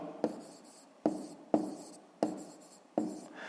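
A pen moves across paper in short scratchy strokes, with five sharp taps as it lands, quiet and close with no voices.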